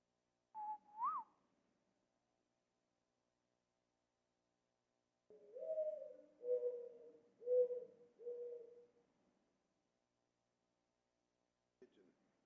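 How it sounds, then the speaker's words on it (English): A recorded desert dove call played back to a church congregation: a brief soft two-note hoot, a pause, then a series of four mellow cooing notes, faint and clear with nothing else around. "It's a desert dove."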